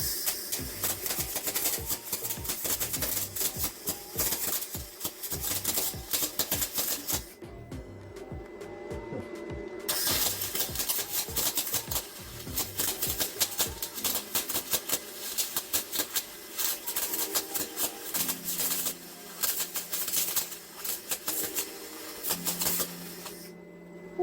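A cheap MIG welder run at its full 250 setting on aluminum gives a dense, rapid crackle and buzz in long bursts, with a brief stop of a few seconds before it starts again.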